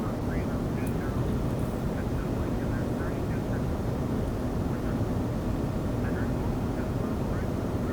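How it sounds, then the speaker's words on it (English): Embraer E195 jet engines in a flight simulator game, droning steadily through a slowing approach from Key West toward Miami: a dense, even roar with no breaks, constant in loudness throughout. "You can actually hear the engines now."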